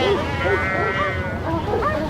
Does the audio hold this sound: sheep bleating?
yes